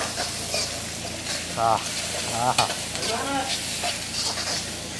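Large prawns fry in a pan with a busy, close sizzle and repeated stirring scrapes, while voices murmur faintly underneath.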